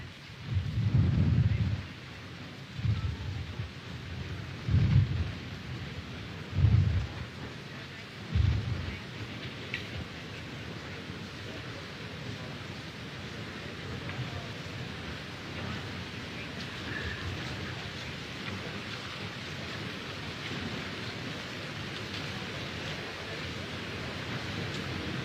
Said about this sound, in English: just slightly move back so the front row is not rained upon